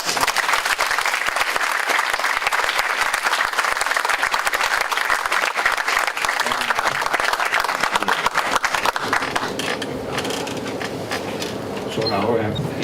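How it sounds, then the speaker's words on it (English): Loud, dense applause from a workshop audience saluting the organizers fills the room and holds steady, then thins slightly toward the end while a voice is heard underneath. "I would like to ask you for a round of applause to the organizers here"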